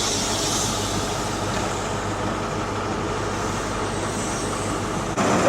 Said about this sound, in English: LNER HST off to Inverness.